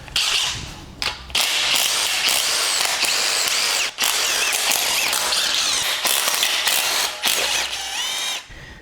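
A power tool removes the manifold bolts from a 1.6 HDi diesel engine in loud, close bursts. Several high whirring runs are split by short pauses and stops.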